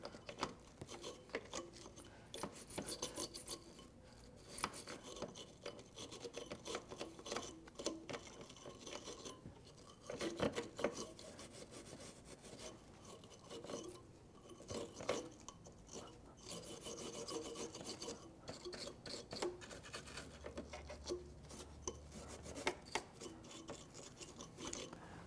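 A small tool scrapes and rasps in quick strokes inside the fuse contact holes of an old Mercedes fuse box, close up and quiet, with no talk.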